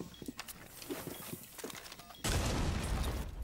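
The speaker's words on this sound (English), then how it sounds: "I missed my shots" Gunshots pop in a Rainbow Six Siege-style match, several quick scattered shots and footsteps followed by a sudden loud, sustained burst of gunfire or explosion.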